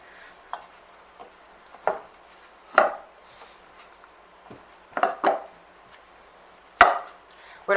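A spoon's underside works scone dough for herb damper scones in a bowl, giving scattered soft taps, thuds and scrapes at an uneven pace, close by and with no talking.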